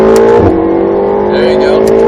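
A Ferrari 488 GTB engine pulls hard at full throttle on a track, a loud steady droning roar with a brief dip near the start, under a voice giving driving instructions.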